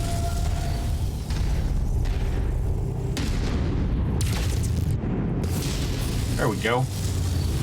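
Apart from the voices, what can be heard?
PPC weapon fire hitting a hilltop in MechWarrior 5 video game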